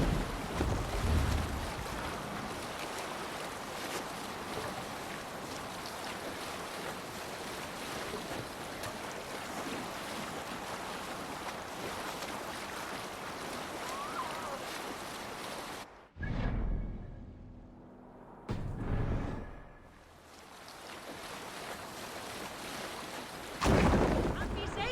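Viking longship under sail on open ocean in Assassin's Creed Valhalla, with a steady broad wash of waves and wind across the water that drops out abruptly near the end before returning in short bursts.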